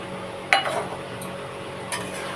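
A utensil scrapes and clinks in a pan while egg curry with fried eggs and water is stirred. Two brief knocks stand out over a low, steady background hum.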